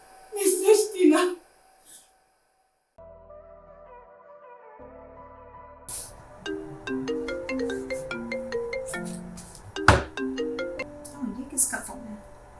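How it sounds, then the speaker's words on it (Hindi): A phone ringtone plays a bright electronic melody with chiming notes, loud and close, after a brief burst of voices at the start. "ये किसका फोन है?"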